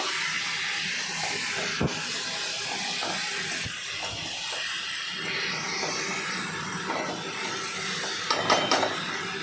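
Water heats in a pot for a Bengali egg curry lunch, giving a steady faint hiss of steam with a low rumble underneath, a couple of soft knocks and a brief clatter near the end, no talk.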